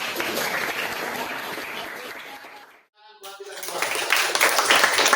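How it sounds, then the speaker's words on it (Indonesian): Classroom applause for a student group at a university session, dense clapping that fades into a short pause with a brief voice, then swells back louder. "tepuk tangan buat kelompok 4."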